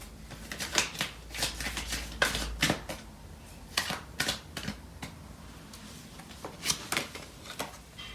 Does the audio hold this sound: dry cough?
no